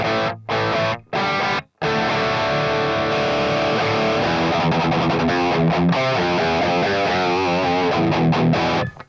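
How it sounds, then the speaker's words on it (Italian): An electric guitar runs through the overdrive of a Boss ME-90 multi-effects unit: a few loud distorted chords broken by brief silences, then a sustained dense distorted passage of held and moving notes. "Adesso faccio un on-off dell'overdrive così sentite la differenza"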